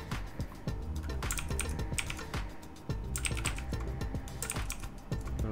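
Keyboard keys clatter continuously in quick irregular bursts during Photoshop editing, close and fairly loud, with no voice present.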